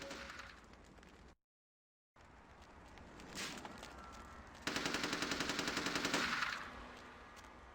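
Gunfire in the video game Vampire: The Masquerade – Bloodlines, rapid machine-gun bursts heard at a distance amid ambient game sound, with a steady stuttering volley in the middle.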